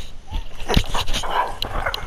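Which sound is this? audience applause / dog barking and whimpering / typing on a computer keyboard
dog barking and whimpering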